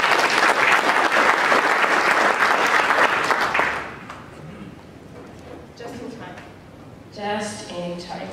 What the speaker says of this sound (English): If you could please just give him a round of applause.